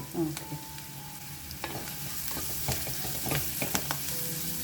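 Onions fry with turmeric in a pan, giving a continuous close sizzle broken by scraping stirs and small pops, with no talking.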